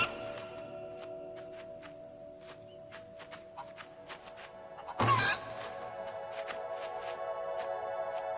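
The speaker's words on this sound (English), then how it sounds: "Those chickens wander all over the place, pecking away." Chickens cluck and peck in a video game, with scattered short clucks over a steady tonal game soundtrack and one louder burst partway through.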